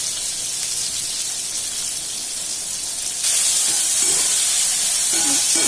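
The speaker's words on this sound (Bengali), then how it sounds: "এখন বেগুন ভাজা হচ্ছে" Eggplant slices seasoned with salt and turmeric fry in hot oil in a home kitchen, giving a steady, loud hiss that grows stronger partway through.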